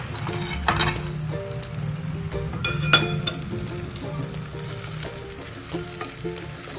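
Prasad with tulsi leaves being stirred in a hot pan, a steady sizzle and frying hiss under scattered clinks and scrapes of a spoon against the metal, one sharper clink standing out midway.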